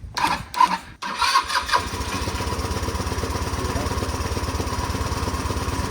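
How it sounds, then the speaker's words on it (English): A small engine on a machine with a hotwired solenoid cranks in a few choppy bursts, then catches and settles into a steady rapid idle, close and loud. "Go key on and let's hit the starter switch."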